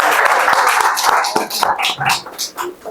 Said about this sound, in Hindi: जोरदार तालियां बजा दीजिए एक बार